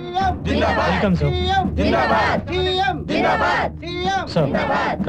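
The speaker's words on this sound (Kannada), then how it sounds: "ಸರ್, ಕ್ರೌಡ್ ತುಂಬಾ ಇದೆ ಸರ್." A large crowd at a political event chants slogans in loud, rhythmic shouted bursts, many voices rising and falling together in repeated waves close by.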